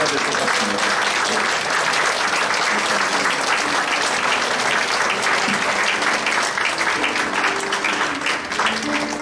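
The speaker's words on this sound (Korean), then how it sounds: "이제 총회장님이 앞으로 걸어 나오시고 계실 때 여러분 큰 박수를 해주시면 더 좋은 교제가 될 것 같습니다." A large church congregation applauds loudly and steadily at a Liberation Day anniversary joint worship service, a dense, sustained wash of clapping from many hands with no pauses.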